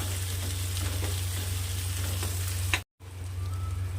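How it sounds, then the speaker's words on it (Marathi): Finely chopped tomatoes frying in a pan for a quick farsan sabzi, giving a loud steady sizzle with a few stirring scrapes and a brief cut near the end. "आता टोमॅटो ॲड करू आपण एक बारीक चिरलेला याला असं छान सॉफ्ट होऊ द्यायचा टोमॅटोला"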